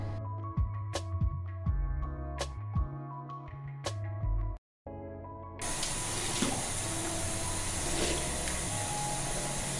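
Close pump squirts of foaming face wash at a bathroom sink, with sharp clicks and squelches early on, then a brief pause before the tap runs in a loud, steady rush of water.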